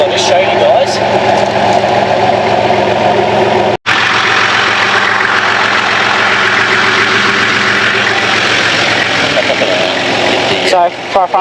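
A Nissan Patrol 4WD stuck with a rock caught on its diff on slippery clay, its engine running loud and steady throughout, with someone talking over it and a brief dropout near the four-second mark.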